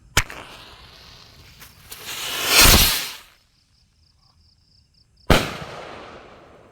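Kwitis Santa Ana rocket fireworks go off: a sharp pop, then a rising whooshing launch swelling loud and close, a brief quiet with faint crackle, and another sudden loud burst.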